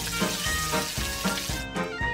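Food fries in hot oil with a steady, dense sizzle and crackle, close and continuous, cooked outdoors on a deserted island, with soft scraping touches and no talking.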